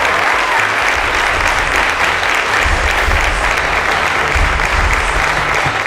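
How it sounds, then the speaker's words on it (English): A studio audience at a students' quiz-show season finale applauds an award winner, loud, continuous clapping that holds steady from start to finish with no speech over it. "A round of applause to Munachi Ernest Eze."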